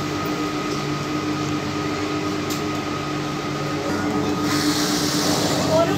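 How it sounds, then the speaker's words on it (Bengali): A Kolkata metro train pulls away from Dum Dum station, giving a steady low rumble and hum from inside the carriage that builds slightly toward the end, with faint background voices. "দমদম থেকে মেট্রো আর কিছুক্ষণের মধ্যেই ছেড়ে দিল।"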